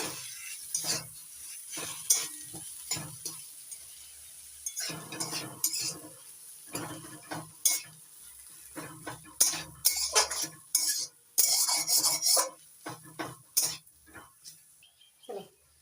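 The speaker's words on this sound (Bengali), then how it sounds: "এবার দিয়ে দিচ্ছি ধনে পাতা কুচি ভালো করে মিশিয়ে নেব" Chopped coriander leaves being stirred into a tomato chop mixture in a pan, with repeated close scraping and clattering of a spoon against metal, irregular bursts over a faint sizzle, no talk.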